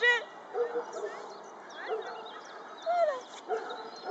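Dog yips and barks in short bursts during an obedience training session on the square exercise, mixed with a trainer's spoken commands close by.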